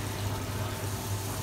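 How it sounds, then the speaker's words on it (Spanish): Water pouring steadily into a paella pan of fideuà, a continuous broad splashing rush without pause. "Vamos con la agüita."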